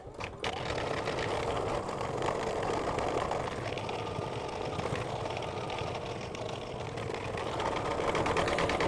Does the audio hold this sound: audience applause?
no